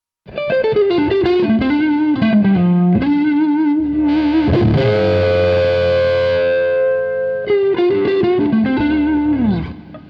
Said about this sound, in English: when you roll off the volume on the guitar, then you get that lovely crystally sound.